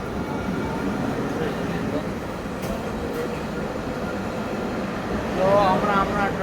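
A tram at the Dubai Marina tram station gives a steady low rumble and hum throughout, with a faint whine rising near the end, while people talk over it.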